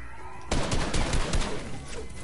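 Shotgun gunfire in the video game Fortnite starts abruptly after a quiet moment, then rings out as several loud, closely spaced blasts with a rough, echoing texture.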